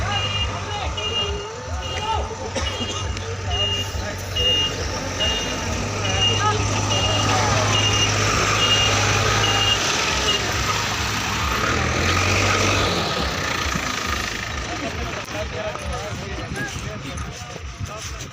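Trucks and a JCB excavator work on a Yamuna embankment repair, hauling soil, with repeated reversing beeps and a low engine rumble running throughout while someone talks over the machinery.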